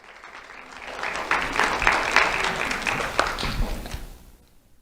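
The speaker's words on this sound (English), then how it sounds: "Let's have a round of applause for Jalen and Jalen." Applause at a school awards ceremony for two honoured students builds from soft scattered claps to a full round of clapping, then fades out near the end, with a few whoops mixed in.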